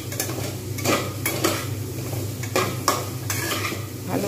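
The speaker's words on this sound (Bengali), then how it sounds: "ব্যাস, এইবারে সুন্দরভাবে আমি নাড়িয়ে দেবো।" A chickpea and potato filling with garam masala stirred in a pan, a close continuous sizzle with repeated scraping strokes of a spoon against the metal, no voices.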